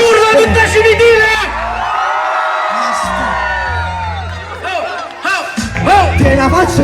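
A live crowd at a rap battle in Cimitile, Italy, whooping and yelling loudly in waves, with a voice shouting over the din throughout.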